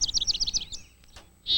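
A chickadee at a backyard feeder gives a rapid run of about eight high, bright chirps, close and clear, then falls quiet before one more short call at the end.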